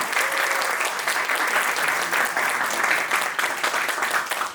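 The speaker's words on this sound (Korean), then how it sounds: "큰 박수로 격려 부탁드립니다" Applause from the congregation at a church worship and praise gathering during a scholarship presentation, a dense, sustained wash of many hands clapping that stays loud and steady before tapering slightly at the end.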